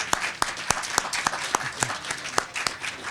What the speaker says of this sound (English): Let's have a round of applause for our global crowd.